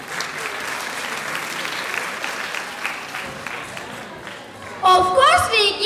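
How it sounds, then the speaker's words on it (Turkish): A school audience applauds class 3C, the third-grade karaoke champions, with continuous clapping throughout that swells louder near the end as chatter and excited voices rise over it. "Alkışlarınız ile 3C sınıfı."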